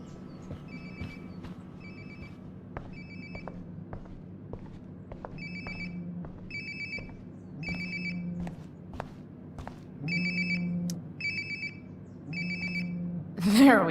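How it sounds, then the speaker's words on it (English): A phone ringing nearby in the video game Life Is Strange Before the Storm, repeated bursts of a bright electronic ringtone in an even rhythm over a low ambient hum, with occasional footsteps. "Sounds like my phone is definitely nearby."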